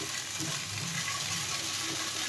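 Kharkol (elephant-foot yam) paste frying in a pan, giving a steady, soft, close sizzle that holds evenly throughout with no talking.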